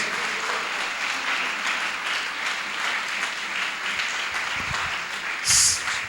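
A church congregation gives a round of applause to God during a sermon, steady dense clapping filling the room for several seconds with a brief louder burst near the end.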